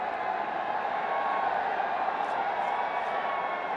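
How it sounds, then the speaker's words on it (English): Excited cricket crowd at a BPL 2025 Fortune Barishal vs Sylhet Strikers match, a steady broad roar of cheering spectators that holds level throughout, with faint whistles rising above it. "A little excitement in the crowd."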